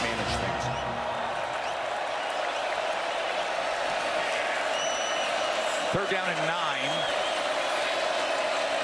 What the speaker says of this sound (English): you can hear the crowd here at DKR bubbling up in support of their defense